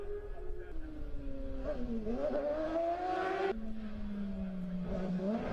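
Racing motorcycles scream past one after another in the Senior Manx Grand Prix road race, their engines rising and falling in pitch as they sweep by, with a commentator talking over them.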